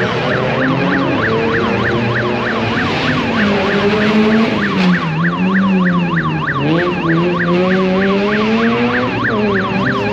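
Electronic burglar alarm of an eyeglasses shop in an industrial zone, wailing in a steady repeating warble, loud and continuous, mixed with the drone of racing car engines passing nearby.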